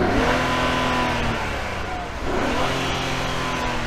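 A Nissan 400Z's engine revs loud and close, heard from the intake side, with a steady high-rpm drone, a dip as the throttle closes, and a whooshing turbo spool as it climbs again.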